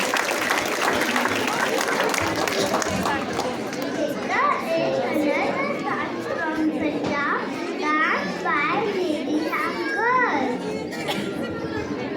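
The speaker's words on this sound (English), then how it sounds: "Let's give them another thunderous round of applause for such a powerful number." An audience applauds after an early-years children's dance performance at a school annual production, with clapping mixed into lively crowd noise and children's chatter and squeals throughout.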